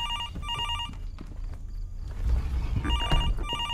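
Repeated bursts of an old telephone ringing in the horror game Fears to Fathom: Norwood Hitchhike, with a pause midway and a low rumble and shuffling footsteps building underneath as the rings resume.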